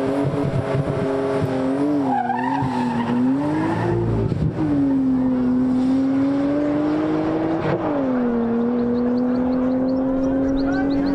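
A drag racing car accelerates hard, its engine note climbing and dipping through gear changes in a loud, sustained roar, with a brief tire squeal near the start.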